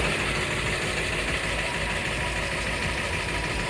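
Car engine held at a steady roar, loud and close, with a dense rumbling texture and no clear rise or fall in pitch over the few seconds.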